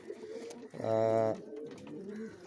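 A single pigeon coos close by, a short, throaty, rolling call against a quiet background murmur.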